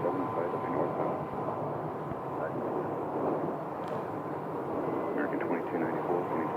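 A Boeing 737 airliner departing Phoenix Sky Harbor, a steady, broad jet roar rumbling on for several seconds, with voices talking over it.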